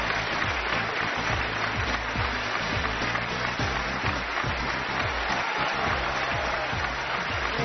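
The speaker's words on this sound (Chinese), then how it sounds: "欢呼声就爆棚，现在还没有停" Sustained, dense audience applause and cheering welcomes Ni Ping onto a televised reading programme stage, a loud continuous roar of clapping from a large, mostly young crowd with no pause.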